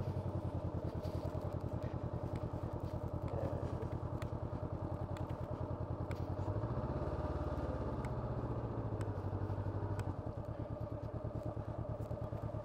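A motorcycle engine idles and revs steadily at close range during a learner's first riding lesson practising starts, braking and clutch control, with a low rhythmic throb and a gentle rise in pitch midway, no talking.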